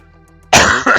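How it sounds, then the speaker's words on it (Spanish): A person coughs twice in quick succession, loud and close, following a quiet, faint hum. "Jope, con esta tos."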